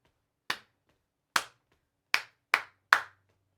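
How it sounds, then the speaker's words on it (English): Five sharp hand claps tap out a rhythm in a bass-section practice lesson, spaced unevenly with the last three closer together, close and clean against silence. "Let's clap that rhythm."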